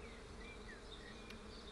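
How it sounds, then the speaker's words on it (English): Honeybees hum around their hive after a storm, a steady, close, continuous buzzing drone with faint individual wingbeats rising briefly above it and no voices. "let's take a look inside the hive and learn a little bit more about the role of honeybees"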